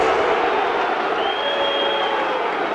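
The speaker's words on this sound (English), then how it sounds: "Listen to the crowd." Rugby league crowd at a Warrington versus Huddersfield match, a steady loud roar of many voices filling the stadium throughout, with a faint sustained whistle-like tone rising above it partway through.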